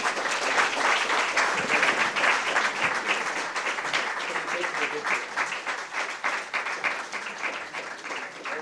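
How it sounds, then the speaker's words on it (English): A large audience at a national summit session in New Delhi claps in a sustained round of applause, a dense steady wash of hands that carries on throughout with a few voices mixed in. "I'm sure you can give them a better round of applause."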